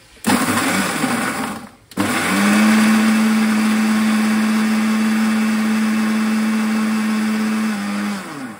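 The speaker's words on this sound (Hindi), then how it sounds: "मैं इधर मिक्सी पे बिस्किट्स ग्राइंड कर रही हूँ।" A fast kitchen mixer grinder pulverises digestive biscuits, a loud steady motor whine running for several seconds after a brief start-stop burst, then winding down at the end.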